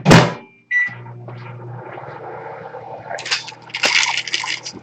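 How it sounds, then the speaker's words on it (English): Kitchen microwave oven running with a steady low hum, after a loud opening thud and a brief beep, with clinks and rustling of handling building up toward the end. "Wow, my microwave is fast."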